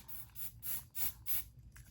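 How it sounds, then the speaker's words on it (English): Several short hissing bursts from a spray bottle of wig melting spray applied to a closure wig, about four quick sprays in an uneven rhythm, close and fairly quiet. "I'm gonna take this melting spray, right? And spray it on here."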